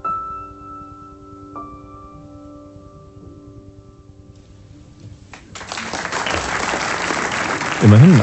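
Audience applause breaks out after a German duet performance, starting as the last sustained tones die away and swelling into a dense, steady clapping that grows louder toward the end.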